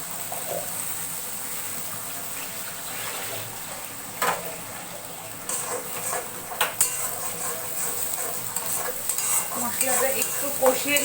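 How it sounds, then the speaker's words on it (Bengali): Garlic, tomato and chilli masala paste fried and stirred in a pan, soft sizzling under repeated spoon scrapes and clinks against the metal, growing busier and louder toward the end, with no talking. "মশলাটা একটু কষিয়ে নেওয়ার পরে চিকেনটা দিয়ে দেব।"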